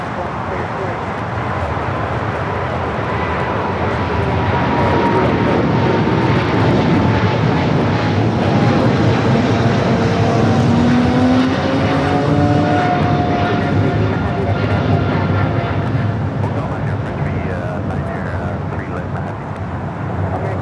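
A Swiss airliner departing LAX for Zurich, a loud sustained jet roar with slowly shifting engine whine, with a voice speaking faintly underneath.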